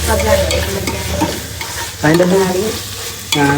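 Beef cooking in a pan or pressure cooker for a special recipe, with a steady sizzle and stirring scrapes that swell in bursts, loud and close, alongside sustained tonal sounds.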